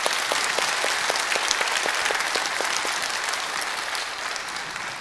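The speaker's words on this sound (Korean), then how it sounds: "우리 모두를 위해서 크게 박수 한번 하겠습니다" A church congregation gives a sustained round of applause, a dense, steady crackle of many hands clapping at once that holds evenly throughout with a slight fade near the end.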